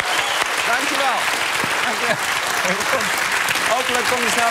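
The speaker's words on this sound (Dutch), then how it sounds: "Groot applaus voor Soendos El Ahmadi!" Loud studio audience applause fills the whole stretch, steady dense clapping with some cheering voices mixed in, at a Dutch late-night talk show.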